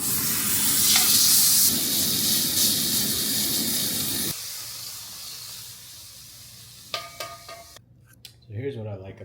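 A big fat steak sizzles loudly in a pan with a steady frying hiss, softening partway through, with clinks and a voice near the end.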